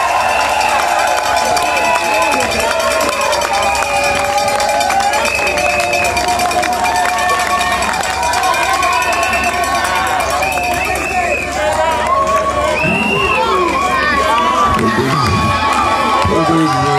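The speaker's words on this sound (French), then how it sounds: "Monsieur Katamba Kinda Mwamba Léon, que nous demandons de se tenir debout sous vos applaudissements." Crowd at a customary wedding ceremony cheering and applauding loudly and continuously, with lively shouts and a dense layer of voices over music throughout.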